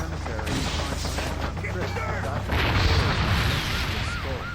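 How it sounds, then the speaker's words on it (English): Gunfire and booming artillery-like blasts from the video game Just Cause roll in rapid, overlapping bursts, loud and continuous over a dense noisy background. "Quite a couple of gunshots."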